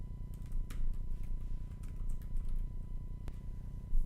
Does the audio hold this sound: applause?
no